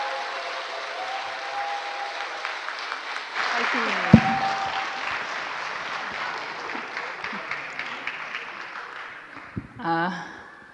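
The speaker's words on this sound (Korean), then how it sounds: "뜨거운 박수로 응원해 주시면 감사하겠습니다." A church congregation at a Sunday testimony service breaks into warm, sustained applause. Many hands clap steadily for around ten seconds, with a brief knock partway through and a voice coming in near the end.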